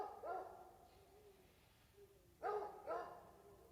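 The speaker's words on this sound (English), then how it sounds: "That's the inside dog and them dogs have a right to bark." An indoor dog named Whalen barking, a few deep woofs: one bark near the start, then two louder barks close together toward the end, heard over quiet room background during a meeting.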